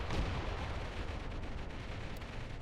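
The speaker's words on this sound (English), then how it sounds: "our mortars are now working against the enemy" Mortar fire in the WWII strategy game Mius Front: a dense, continuous rumble of distant artillery bursts rolls steadily throughout, heavy and booming, with no voices.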